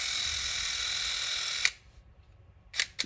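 A Bell & Howell Electric Eye 8mm wind-up film camera runs with a steady close whirr, then stops abruptly, followed by a few sharp mechanical clicks.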